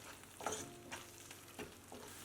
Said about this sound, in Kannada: ಲೋ ಫ್ಲೇಮಲ್ಲೇ ಚೆನ್ನಾಗಿ ಬೆಂದು ಎಣ್ಣೆ ಬಿಡಬೇಕು ಅಲ್ಲಿವರೆಗೂ ಬೇಯಿಸ್ಕೊಳ್ಳೋಣ